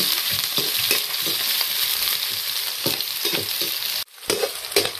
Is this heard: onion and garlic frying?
yes